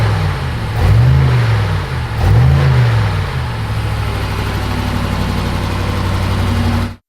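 A BMW M5 Competition engine idles close by with a deep, steady rumble, broken by two quick revs early on before settling back to an even idle.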